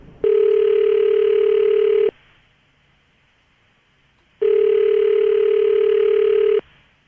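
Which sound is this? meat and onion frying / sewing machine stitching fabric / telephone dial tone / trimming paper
telephone dial tone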